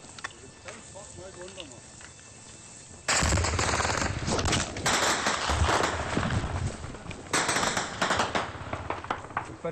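Loud bursts of automatic gunfire with rapid cracks break out during an army patrol in Afghanistan, near a small path, stream and bridge, after a quieter opening with faint voices, and continue in heavy clusters with shouting underneath.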